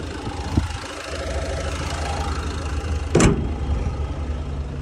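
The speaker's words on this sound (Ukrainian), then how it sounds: "Двигун працює нормально, адекватно." A Renault Grand Scenic 3 engine idles steadily up close, a low even rumble with a faint knocking texture and one brief sharp noise partway through.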